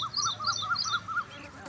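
Small birds chirp in the evening countryside near flowering crops, with rapid, bright tweets in quick clusters close by, repeated for under two seconds and then fading.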